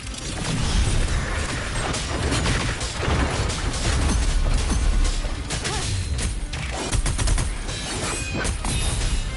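Rapid, dense gunfire in the video game Wuthering Waves, rattling continuously and loudly across the whole stretch with overlapping shots and mechanical clatter, no pause in the barrage.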